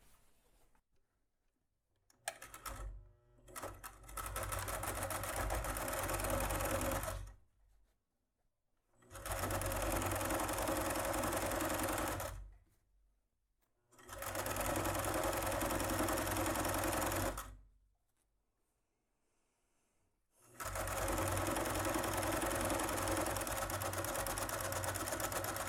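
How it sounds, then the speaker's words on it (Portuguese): Sewing machine stitching a seam on a cute makeup bag, close and steady, running in four long bursts of several seconds each with quiet pauses between. "Agora você desvira aqui e vai passar uma costura aqui, ó, para rebater."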